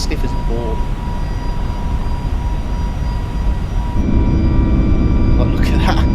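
Airbus A321neo jet engines in a steady climb, simulated in the FSLabs flight simulator, a continuous loud roar with broadband rumble that thickens and grows louder about two-thirds through.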